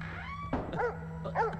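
An animated film's cartoon puppy yips and whimpers in short, close bursts, a few quick high cries following one another over a faint steady hum.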